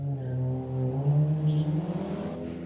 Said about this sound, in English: He's off. Yeah, he's had something done to it. I can hear the exhaust.